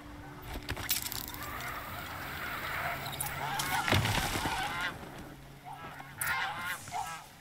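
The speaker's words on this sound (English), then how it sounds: "These are real birds, right?" Birds honking in the video game Horizon Zero Dawn, a flurry of goose-like calls and wing noise rising and falling over a game ambience, with a louder burst near the middle and more calls toward the end.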